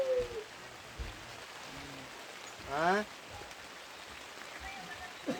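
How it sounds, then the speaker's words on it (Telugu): A soft, steady patter of rain falls at a village temple, with a few short voices and a brief rising call cutting through near the middle. "వర్షం వస్తుంది."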